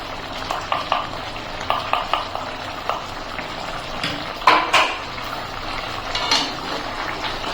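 Fried potatoes and ground coriander-cashew paste get stirred into a pan of chicken, with repeated utensil scrapes and clinks over a low sizzle, close and fairly loud, and no talking.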